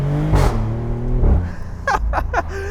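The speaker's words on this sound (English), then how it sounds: "Are you hearing that upshift? It's like a double backfire going off." A 2025 Maserati GranCabrio Trofeo in Corsa mode revs hard and drops through an upshift, then fires a quick run of sharp, crackling backfire pops from the exhaust, loud and close from inside the car.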